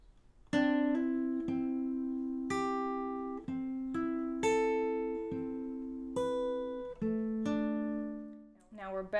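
Acoustic guitar playing the hammer-on chord pattern from a song, with steady plucked arpeggiated notes ringing in a regular rhythm, close and clear, with no talking.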